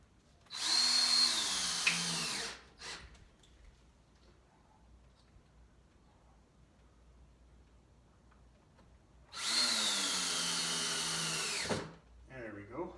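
A power drill drives screws into a garage board in two sustained whirring bursts, each a couple of seconds long and close by, separated by near silence with faint clicks.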